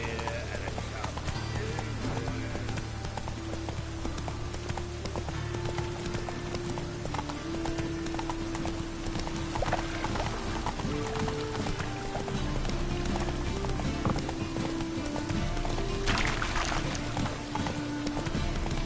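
Horse hooves clip-clop steadily at a brisk pace, close and continuous under a constant bed of ambient noise and music-like tones, with a voice urging the horse on.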